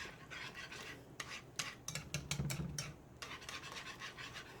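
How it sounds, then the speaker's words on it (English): A whisk scrapes and stirs through gravy in a pan, a run of quick rhythmic metallic strokes with brief pauses, close and fairly quiet, with no talk. "we're going to keep whisking this up"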